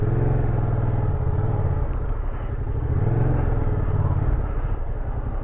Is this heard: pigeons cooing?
no